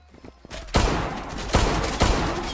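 Loud Desert Eagle pistol shots in the video game Zula, three heavy single reports spaced about three-quarters of a second apart, starting after a quiet lead-in with faint background game noise.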